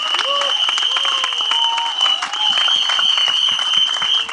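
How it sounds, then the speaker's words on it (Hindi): A crowd applauds the directors at a film teaser launch event, steady broadband clapping that runs throughout, with a voice speaking over it and a sustained tone from the sound system beneath. "दोनों के लिए एक बार जोरदार तालियां हो जाएं"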